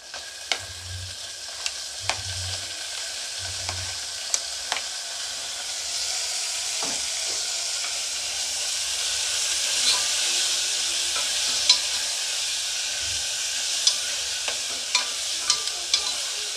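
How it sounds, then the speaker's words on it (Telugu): Chopped tomato tipped into a hot pan and stirred, a steady bright sizzle running throughout with scattered spoon scrapes and clicks, plus a few low thumps early on; no voices. "అలాగే ఇందులో తరిగి పెట్టుకున్న టమోటా వేసుకోవాలి."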